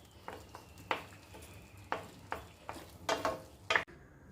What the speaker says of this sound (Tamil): கொஞ்சம் அது திக்காக வரைக்கும் கிண்டி கொடுங்க